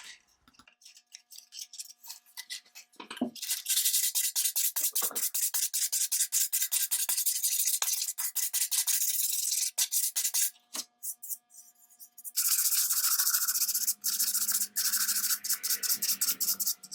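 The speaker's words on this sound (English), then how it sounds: "This time I'll move to 150 grit sandpaper." Hand sanding of a Brewster lamp with 150 grit sandpaper during restoration, close and steady rasping strokes in quick repeated rhythm, pausing briefly, then resuming with a slightly different tone near the end.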